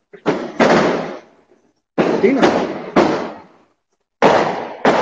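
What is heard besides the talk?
firecrackers exploding outside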